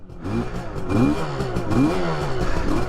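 A cold Suzuki X7 barn-find motorcycle engine runs close by, its pitch rising and falling in a few uneven revs with a steady throaty drone beneath.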